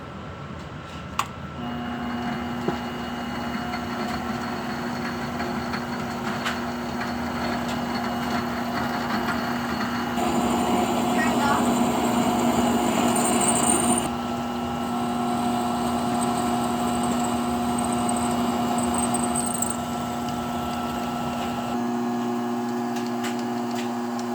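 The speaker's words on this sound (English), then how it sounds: "I ended up having to use a D-sized drill bit," A steady mechanical whine of a D-sized drill bit boring into metal for a rotary table eccentric lock runs continuously, its pitch and grinding shifting partway through, with no one talking.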